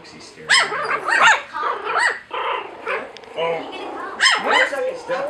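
Jack Russell puppies about three and a half weeks old yip and bark in thin, high squeaky bursts, close and repeated, while people chat over them.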